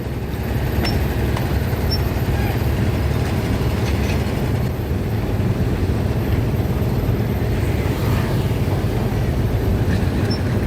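A rare Mallet steam locomotive from the PG Semboro sugar mill, with four pairs of driving wheels, is towed by a diesel locomotive. A loud, steady rumble of engine and rolling rail noise continues throughout.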